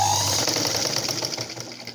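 A sewing machine stitches a plain blouse, giving off a close, rapid mechanical whir that runs steadily for about two seconds.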